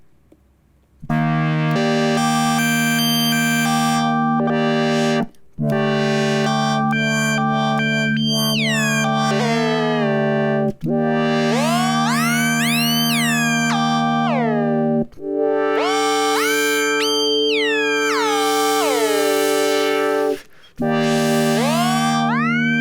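A NuRAD wind controller plays a Eurorack synth in sustained bright, buzzy held notes, with several phrases sweeping sharply upward in pitch, loud and close with brief gaps between them.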